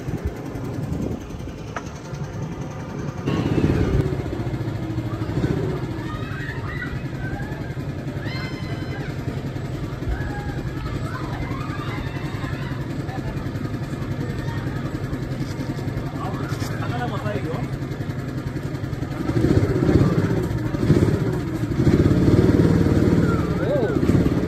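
A boat engine drones steadily as the boat moves along during a trip in Thailand. The rumble is continuous and fairly loud throughout, with people talking over it.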